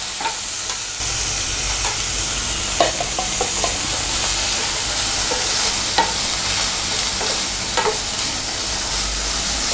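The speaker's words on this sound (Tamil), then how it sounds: "குடமிளகாய் இதையும் நம்ம ஆட் பண்ணிவிட்டு வதக்கிக்கலாம்." Capsicum sautéing in a pan for restaurant-style chilli chicken gives a loud, steady sizzle throughout, with occasional clinks and scrapes of a stirring spoon and no speech.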